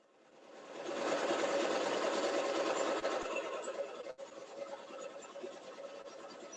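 A sewing machine runs steadily while stitching a half-inch seam on fabric for a planter, a close, continuous whirring hum that starts up quickly and carries on with slight fluctuations and no talking.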